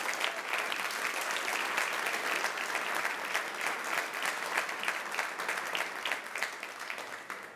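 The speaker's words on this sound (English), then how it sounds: "let's give him and his team a round of applause" A large audience at a 2019 school district State of the District address claps steadily and loudly throughout, a dense wash of applause with no pauses or voices standing out.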